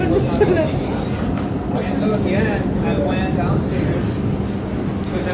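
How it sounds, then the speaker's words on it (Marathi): An underground metro train runs through a tunnel with a steady, close rumble and rattle that fills the whole stretch, while indistinct passenger chatter sits underneath. "जमिनीच्या खालचा मेट्रो जात आहे"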